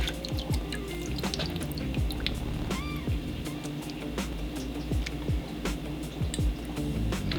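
Vinegar poured into a vegan roast beef mixture of stock powder, nutritional yeast and salt, a steady trickling drip with faint splashes running continuously, fairly close and alone without voices.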